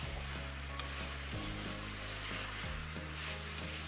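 Radish leaves (mooli greens) sizzling steadily in a pan on a high gas flame, with a few soft scrapes as they are stirred, broadband frying hiss over a low steady hum, no talking.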